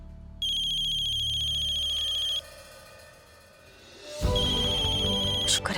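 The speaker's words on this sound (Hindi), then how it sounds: "शुक्र है कल्याणी का फोन तो आया" Phone ringtone playing a repeating electronic tone, loud and steady for about two seconds, then fading and returning with a fuller, louder ring near the end, with no talking over it.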